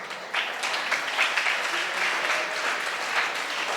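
An audience at a Jain Paryushan festival camp sermon claps steadily throughout, dense and continuous at moderate loudness, with no talk over it.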